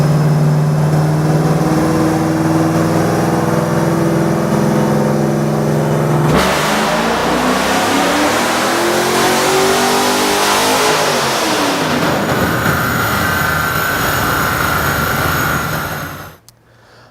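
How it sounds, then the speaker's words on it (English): A 1965 Impala with an LS7 engine loud and close on a chassis dyno: a steady drone, then a long pull with the rising engine roar, a wind-down, and an abrupt cut to quiet. "Today we've got the 65 Impala on here and we're going to make a couple pulls on it."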